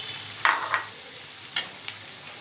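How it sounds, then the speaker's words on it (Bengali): Drained flattened rice goes into a hot pan for a chilli soya poha dish and gets stirred, giving soft scraping and a few sharp clacks of a spatula against the pan over a low, steady background hiss. "যে চিড়েটা আমি রেখেছিলাম জল ঝরিয়ে, এটা কিন্তু এবার পুরোটা প্যানে আমি দিয়ে দিচ্ছি"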